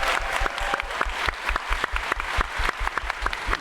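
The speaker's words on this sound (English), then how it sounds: "Can we just give a round of applause for Dr." A live audience in Chicago claps for guest Charlie Dates: dense, steady applause from a crowd, close and lively, holding for a few seconds.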